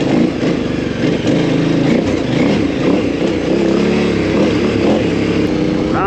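A motorcycle engine runs steadily and loudly throughout, a constant close drone with small shifts in pitch, heard from on the bike while riding.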